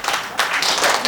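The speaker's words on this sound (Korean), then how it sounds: "여러분 큰 박수로" An audience claps to welcome the poet Kim Yeon-ju at a Busan anniversary ceremony and lecture. The applause is a dense, steady wash of hand claps throughout, with a faint voice underneath.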